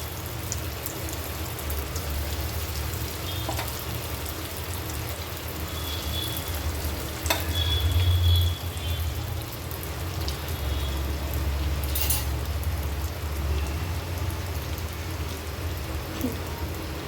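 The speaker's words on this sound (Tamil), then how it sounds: "ஒன்று ஒன்றா எண்ணெயில் போட்டு எடுத்துடலாம். எண்ணெய் சூடாயிடுச்சு." Cheese balls deep-frying in hot oil, a steady dense crackle and sizzle like light rain that holds evenly throughout with a few brief louder pops.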